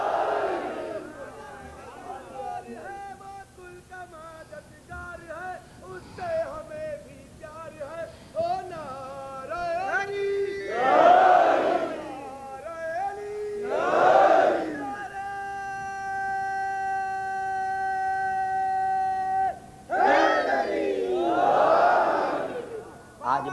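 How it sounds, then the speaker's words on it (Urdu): A large religious gathering at a majlis roars the Naara-e-Haidari slogan in repeated loud collective bursts, with a lone voice leading the chant between the crowd's shouts. "نعرہ حیدری."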